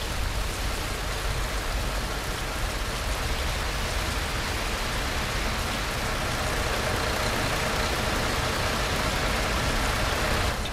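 Steady rain falling in the Fernbus Simulator coach-driving game, a dense, even hiss of drops that holds at the same level throughout, with no talking over it.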